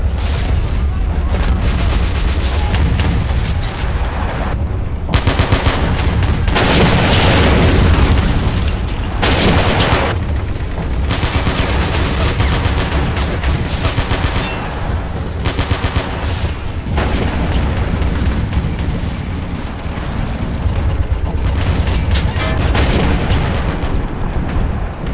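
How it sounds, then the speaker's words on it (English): Artillery salvos and explosions boom and rumble in the video game Men of War: Stalingrad, heavy blasts and gunfire layered densely and continuously over a long stretch of battle, with a voice talking underneath. "Turning fire with artillery salvos, trying to hit those buildings."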